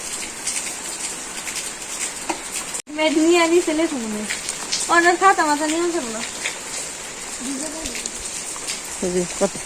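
Rain keeps falling on a wetland village on a rainy day, a constant close hiss of drops pattering on surfaces, while a voice speaks over it for several seconds in the middle.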